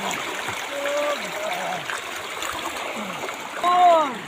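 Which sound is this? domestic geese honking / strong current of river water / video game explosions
strong current of river water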